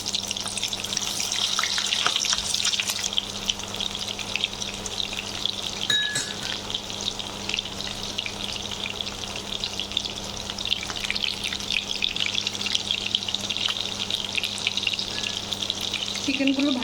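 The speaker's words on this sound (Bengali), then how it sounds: "আমার চিকেনগুলো এক পাশ ভাজা হয়ে গেছে" Chicken pieces fry steadily in a pan, giving a continuous dense sizzle and crackle throughout, with occasional faint clinks and no talking.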